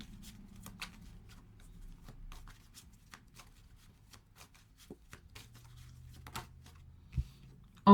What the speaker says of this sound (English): I'm even going to give this an extra shuffle.